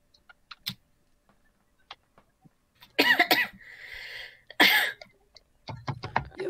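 Two harsh coughs ring out close and loud, about a second and a half apart, amid scattered light clicks like keyboard taps in an otherwise quiet room.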